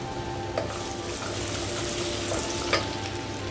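Finely chopped ginger goes into hot oil flavoured with beef and spices for a pickle, and a loud, even frying hiss carries through with a couple of stirring scrapes.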